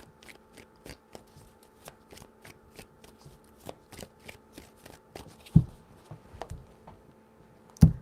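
Tarot cards are shuffled by hand in a quick run of crisp, close riffling snaps at a steady rhythm, ending with a couple of louder taps as the deck is squared.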